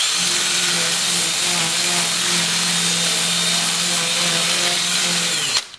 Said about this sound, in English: I'm gonna sand it until it's nice and smooth, clean.